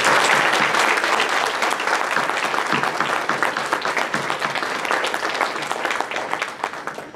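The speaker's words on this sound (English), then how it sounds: "please join me in a round of applause for the club staff" A breakfast gathering's audience claps for the club staff in thick, sustained applause that stays loud and even, easing slightly near the end.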